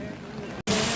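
Heavy rain pours steadily at a paddy-field ploughing race in the Konkan, a dense broadband hiss that cuts out for an instant and then returns louder and closer.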